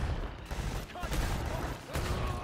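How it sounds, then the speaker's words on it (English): Gunfire in the Predator Hunting Grounds video game, rapid bursts of shots crackling at moderate distance amid a noisy, busy mix, with brief voice-like sounds in between. "Look at all these people trying to shoot us."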